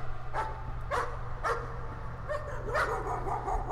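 Dog barks sound in the horror game Layers of Fear: four or five distinct barks, a pair early and a couple later, over a steady low droning hum, no talking.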